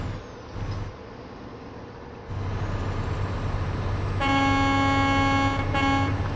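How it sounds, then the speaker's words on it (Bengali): A Volvo FH16 truck's air horn in Euro Truck Simulator 2 blasts loud and steady for about two seconds near the end, over a continuous low engine drone and road noise. "এটা হচ্ছে এয়ার হর্ন"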